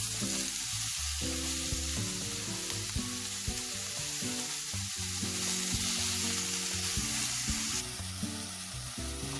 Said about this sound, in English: Mix it and cook it for at least 2 to 3 minutes.